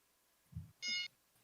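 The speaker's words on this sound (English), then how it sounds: "That was my alarm to give Mama Cat her medicine" A silenced phone's alarm chirps once in a short burst of bright electronic beeping, fairly quiet in a calm room, preceded by a soft low thump and followed by the start of another beep.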